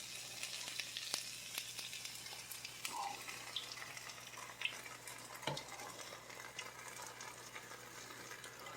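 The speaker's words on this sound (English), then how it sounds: "now we're going to dump in our sauce" Red sauce poured into a pan of chicken and zucchini noodles, sizzling steadily throughout with a few clinks and scrapes of a utensil and a brief splash near the middle.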